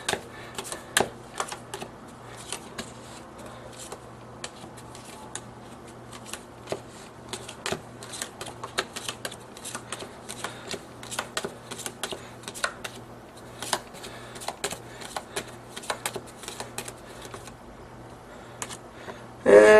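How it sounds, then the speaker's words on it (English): Playing cards laid out one at a time on a table during a card trick, giving a steady run of soft, close snaps and flicks with a brief louder rustle at the very end. "I'll start laying cards out, probably enough cards to show their chosen card somewhere."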